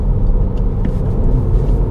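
A 2022 Mini Cooper S two-door accelerating, heard from inside as a loud, steady low engine and road rumble with no distinct gear changes.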